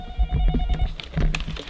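A telephone rings near a hotel in London with a steady electronic trill that cuts off about halfway through, over street clatter and low background noise.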